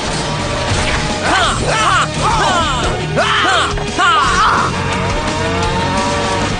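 The Bull Zord from Power Rangers Super Samurai bellows in a series of loud, drawn-out moos, several overlapping calls over a rumbling, noisy action-show background.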